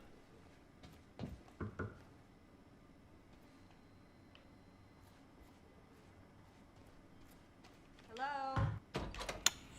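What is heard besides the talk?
door in Quantum Break video game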